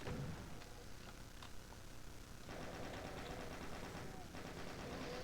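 Gunfire in the Doom video game plays as rapid repeated shots, a dense crackling volley that thickens midway, heard faintly with soft talk over it.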